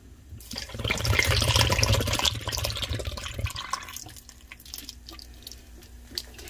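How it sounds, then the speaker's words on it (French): Milk pours into wheat porridge in a pot, giving a close liquid splashing and trickling. The sound swells for a few seconds, then thins to light drips and small clinks. "Moi mettez lait."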